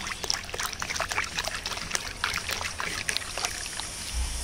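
Lentil dal with mango is stirred and mixed with water in a pot on a wood-fired stove, giving a continuous wet sloshing and trickling with quick scraping strokes, close and moderately quiet, no voices.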